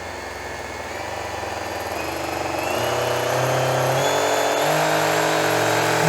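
A Parkside cordless angle grinder runs alone, its motor whine climbing in pitch in steps as the speed is raised, steady and close throughout.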